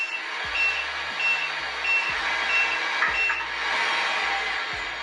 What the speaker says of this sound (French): Donc j'enclenche la marche arrière.